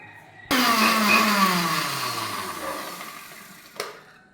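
A mixer grinder whirs to life abruptly, grinding coarse salt with chili powder; a loud motor whine drops gradually in pitch as the load settles, then cuts off, followed by a brief clatter.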